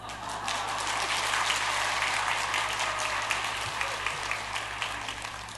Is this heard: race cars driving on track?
no